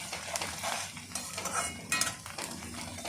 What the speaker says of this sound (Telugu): ఆనియన్స్ వేగుతూ ఉంటే రెడ్డిష్గా రావాలి ఆనియన్స్